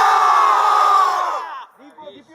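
A film crew on a castle set at Campo Ligure shouts together in one sustained, loud unison yell that holds for over a second and then breaks off, leaving scattered fainter voices and a short trailing shout.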